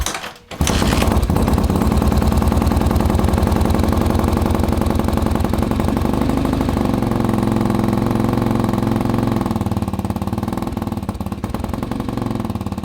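A cheap Walmart 250cc EFI dirt bike engine fires up after a brief kick, then runs loud and close with a rapid, steady putter, settling toward a lower idle near the end.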